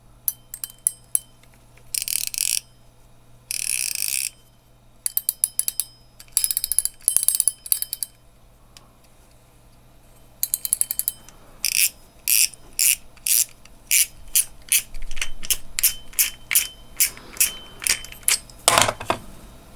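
A baitcaster fishing reel from a Googan Squad combo, with its mechanism giving bursts of sharp metallic clicking and ratcheting in short runs, then a quicker train of evenly spaced clicks; close and alone over faint background hum.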